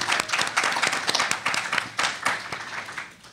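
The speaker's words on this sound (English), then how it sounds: "So let's give a round of applause for everyone and Raeghan." A convention-panel audience claps for a guest: a short burst of moderate applause, dense and even at first, then thinning out and fading over a few seconds.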